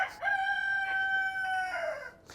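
A single rooster crow rings out clearly, a long drawn-out call with no talking around it.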